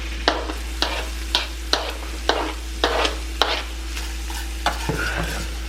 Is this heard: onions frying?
yes